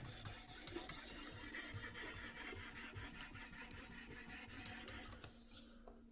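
A knife edge being sharpened on a Work Sharp Precision Adjust gives steady, close rasping strokes of abrasive on steel, repeating rhythmically and continuously before tapering off at the end.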